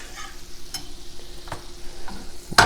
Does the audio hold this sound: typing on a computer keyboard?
no